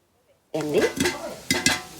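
Meal maker (soy chunk) pakoda dipped in egg batter sizzling as it drops into hot oil in a kadai, starting abruptly loud with bubbling and stirring clatter, a second burst of splashing near the end.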